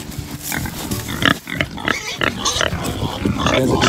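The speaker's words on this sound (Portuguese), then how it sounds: "Essa porca aqui, ela é filha de um porco grande que a gente tinha aqui." Pigs on a small farm, including a sow, grunting and snuffling in a busy, continuous jumble of close animal noise, with occasional louder squeals and no talk.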